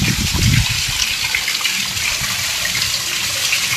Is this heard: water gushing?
yes